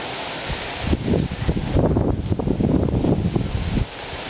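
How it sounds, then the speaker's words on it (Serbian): Wind gusting outdoors, a rough blustery rumble buffeting the microphone that swells in the middle and eases off, with no talk. "Aj, vetar duva."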